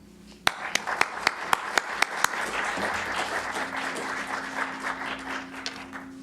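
An audience at a history lecture breaks into applause to welcome a professor: a few distinct, sharp claps open it, then many hands join in a sustained wash of clapping in the hall.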